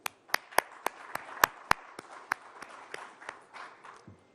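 Slow, separate claps ring out at a conference opening, sharp and evenly spaced at first, then thinning into softer scattered claps against a quiet room.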